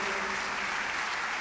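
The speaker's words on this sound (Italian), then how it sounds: "è arrivato l'arcivescovo ora, così lo accogliamo con un applauso" Audience applause welcoming an archbishop at a gala concert, a dense, steady clapping from a crowd filling the hall, loud and continuous throughout.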